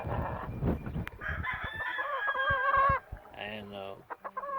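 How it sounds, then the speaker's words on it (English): A year-old gamefowl rooster crows loudly and close by, then gives several short clucks, with a little background noise at the start. "pretty rooster"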